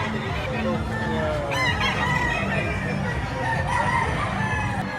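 A rooster crows loudly nearby at a chicken market in Batangas, with hens clucking and people talking in the background.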